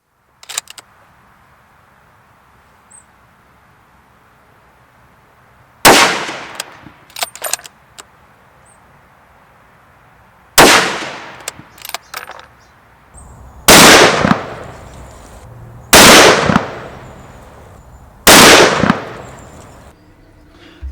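A Steyr Mannlicher SM12 rifle in .308, with a walnut stock and fired from a rest bag, lets off five loud, sharp cracks spaced a few seconds apart, each followed by a short echoing tail over a quiet outdoor background.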